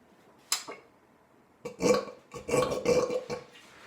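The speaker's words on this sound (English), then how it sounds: "I'm gonna drink a little bit of coffee, get my belching going" A man belches after drinking coffee: a short burp, a pause, then a longer drawn-out series of loud, close, croaky belches.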